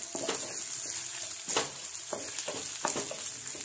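Chillies and tamarind roast and sizzle in a pan for peanut chutney, a steady close frying hiss with a few soft scraping stirs and no talk.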